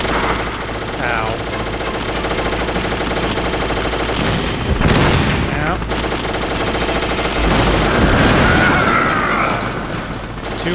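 Dense gunfire from the video game Metal Gear Solid rattles in rapid bursts and booms throughout, loud and continuous, with a player's voice talking over the game sounds.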